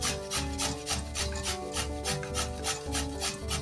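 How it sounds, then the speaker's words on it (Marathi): Sweet potato and potato are grated by hand in a steady, even rhythm, roughly three rasping strokes a second, close and alone with no talk. "असे मस्त असे किसून घेऊ आपण रताळ."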